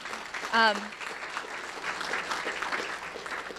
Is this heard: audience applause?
yes